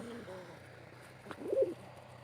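Domestic country pigeons on a small pigeon farm give soft, low coos, a faint burst at the start and a slightly louder one near the end, over a quiet background.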